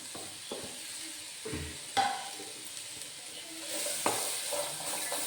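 Finely chopped beans and 200 grams of grated carrot are stirred in a frying pan, soft sizzling under intermittent scraping and knocks of a spoon, moderately quiet and close.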